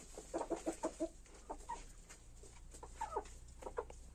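Astrolorp-breed hens cluck in short bursts and scattered single calls, fairly quiet and close, with pauses between phrases and a steady low background hum.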